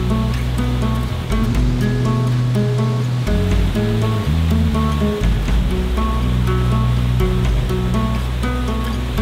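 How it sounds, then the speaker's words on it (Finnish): River rapids rush in a continuous loud roar near an abandoned sawmill and mines in Finland, steady and unbroken with no voices. "Nyt on kyllä hieno koski."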